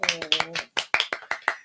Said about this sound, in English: We're going to clap our hands for him.